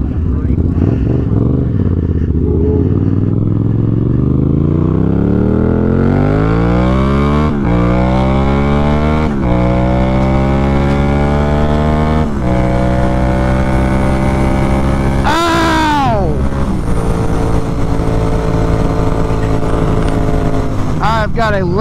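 Yamaha MT-07 motorcycle fitted with a new aftermarket exhaust, loud and close, revving up through the gears in repeated rising sweeps with sharp throttle changes and a burbling tone.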